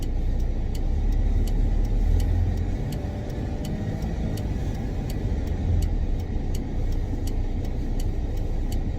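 A used Kia Bongo 3 truck drives steadily, its mid-pitched engine hum and road rumble continuous and close throughout, with a faint regular ticking above.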